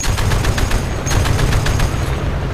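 Rapid gunfire from the top of a building in the video game Battlefield Play4Free, Gulf of Oman map: a steady stream of sharp, evenly spaced shots layered over a low rumbling battle background, loud throughout with no speech.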